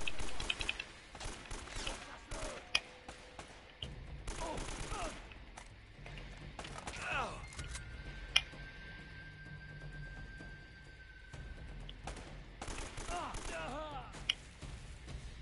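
Gunfire in the video game Uncharted: Drake's Fortune, scattered shots and bursts of automatic fire mixed with game effects and background noise, steady and fairly dense throughout.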